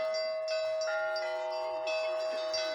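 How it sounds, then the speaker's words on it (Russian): Easter bells ring from a men's monastery bell tower, played by a young bell ringer named Maksim. Overlapping tones sustain in a continuous, shimmering peal heard from some distance. "А там Максим играет на колокольне. Такой звон красивый."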